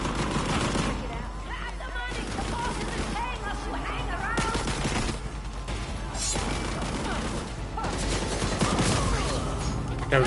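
Rapid turret fire in a Batgirl video game rattles in dense, continuous bursts with mechanical clatter and crashes, while voices talk throughout.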